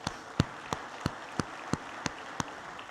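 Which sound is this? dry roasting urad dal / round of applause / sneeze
round of applause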